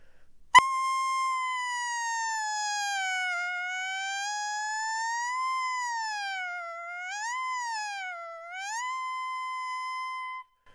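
A human voice imitates a siren, sliding its pitch smoothly up and down in a long sustained tone after a sharp onset, clear and close, then dipping and rising in quicker swoops toward the end.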